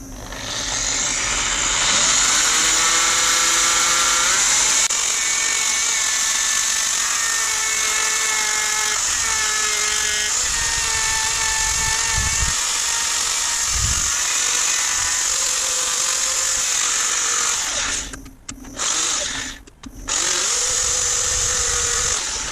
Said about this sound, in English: That was our 60 grit sanding